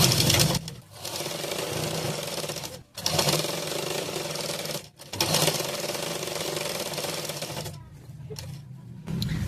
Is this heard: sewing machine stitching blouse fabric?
yes